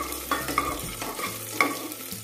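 Dried red chillies sizzle in hot oil for vegetable pulao, a brief close crackling fry with a few sharp metallic stirring clinks.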